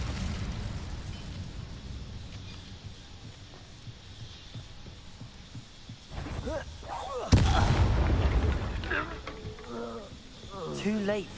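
Incendio fire spell cast in the Hogwarts Legacy video game: a sudden loud whooshing burst of magical fire that swells and lingers over an ongoing low rumbling game soundtrack, with brief effects following.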